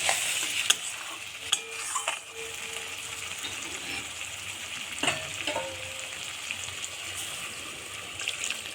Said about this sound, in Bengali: এবার মশলা ভাজা হয়ে গেল তেল ছেড়ে দিয়েছে